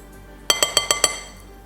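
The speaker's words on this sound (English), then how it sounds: "We're just going to give this a quick whisk." A whisk strikes a glass bowl holding dry cake ingredients with cocoa powder, five quick bright clinks in an even rhythm, close and clear, with quiet before and after.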